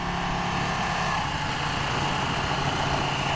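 A 2016 Yamaha XSR900 motorcycle with a developing fault idles steadily nearby, a constant low engine drone with a broad hiss above it and no talking.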